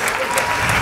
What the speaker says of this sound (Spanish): Yo quiero que ustedes den ese aplauso fuerte al Señor Jesús.